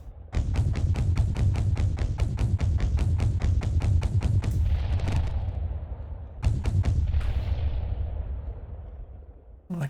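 Rapid gunfire from a ship in the video game Seraphrame: a fast rhythmic burst of heavy thumping shots, then a decaying rumble, then a second short burst, loud and close, with no voices.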